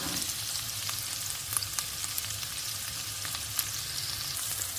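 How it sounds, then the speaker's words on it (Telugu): Spring onion whites frying in hot oil for street-style Hakka noodles, a steady close sizzle with faint scattered crackles throughout and no voices. "ఇప్పుడు దీంట్లో ఈ వైట్ పార్ట్ ఉల్లికాడ ఉంటుంది కదా అది కూడా వేసి ఫ్రై చేస్తున్నాను"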